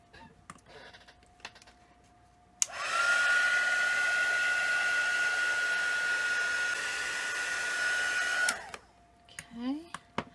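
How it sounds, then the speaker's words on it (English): A heat gun blowing hot air onto a tag during a craft project: a steady, loud whirring blast with a whine that runs about six seconds, then cuts off, with quiet handling sounds before and after. "I'm going to hit that with the heat gun real good"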